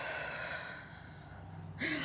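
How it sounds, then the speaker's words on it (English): A single sharp, breathy gasp for air comes right at the end, after a stretch of faint, muffled background noise. "gasping for air."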